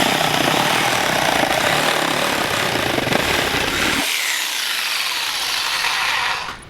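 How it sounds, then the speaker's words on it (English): A reciprocating saw buzzes loudly and steadily, cutting through a plastic duck decoy for several seconds before the pitch drops as the blade breaks through and stops. "I'm just gonna take a Sawzall."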